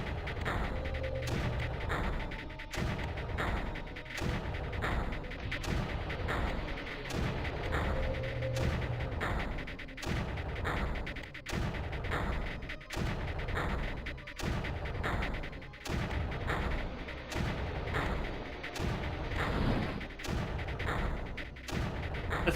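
Mortar artillery firing repeatedly in the video game Creeper World, a long run of regularly spaced booming thumps roughly every second, moderately loud over a dense continuous game background.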